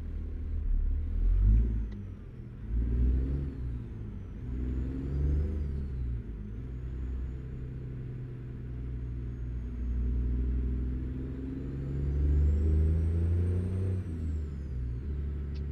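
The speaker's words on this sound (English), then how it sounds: "This truck got the Detroit Series 60." A truck with a Detroit Series 60 engine of about 554 horsepower and a 13-speed transmission accelerates in American Truck Simulator, its deep engine rumble rising and falling as it works through gears, loud and steady with no talk.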